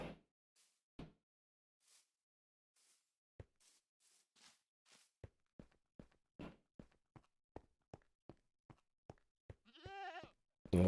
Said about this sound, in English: And we'll have our goat exhibits.